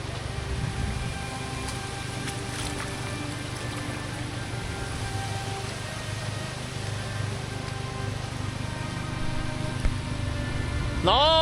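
Steady rain falls during a flood in Poland, with overflowing streams nearby, making a continuous broad wash of noise over a low rumble and faint voices, ending in a brief rising tone at the close.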